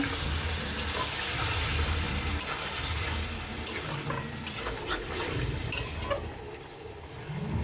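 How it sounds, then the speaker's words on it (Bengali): Meat-washing water poured into a pan of cooking yogurt chicken, a continuous watery splashing and bubbling hiss with stirring scrapes, moderately loud and close, no talking. "মাংস ধোয়া জলটা আমি দিয়ে দেবো।"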